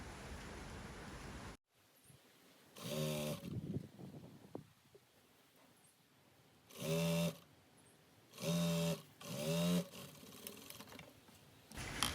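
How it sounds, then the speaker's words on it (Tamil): Sewing machine stitching a folded hem on a top: four short runs of fast, close mechanical whirring, separated by quiet pauses and faint handling noises. "அதே மாதிரி மற்ற பக்கம் மடித்து தைப்பேன்"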